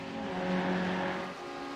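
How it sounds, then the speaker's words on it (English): Lamborghini race cars speeding down a straightaway toward a turn, a brief sustained engine roar that swells and then eases slightly, fairly loud and unbroken. "Their Lambos in lockstep in the Senna S's, and now down the straightaway into turn 4"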